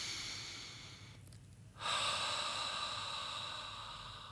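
Deep breathing during a restorative yoga session: a long airy exhale, a brief pause, then a strong drawn-in breath that tapers away slowly, close and soft.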